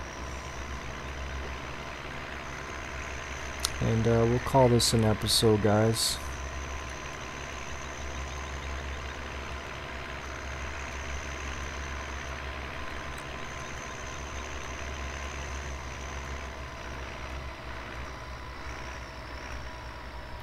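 Tractor engine idling in Farming Simulator 2015, a steady low drone running throughout, briefly joined by a short burst of rhythmic electronic beeps near the middle while a voice speaks lightly over it.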